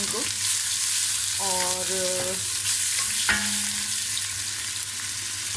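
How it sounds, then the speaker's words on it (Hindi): Onions, garlic and ginger fry in hot oil for a Desi chicken pulao, giving a constant close sizzle with stirring scrapes, while a short spoken word sits over the cooking. "अब ये लहसुन अदरक भी हमारा तकरीबन 30 सेकंड हो गया है फ्राई।"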